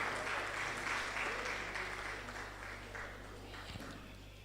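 An audience at a public health grand round applauds, a soft, even spatter of clapping heard from some distance over a steady low hum.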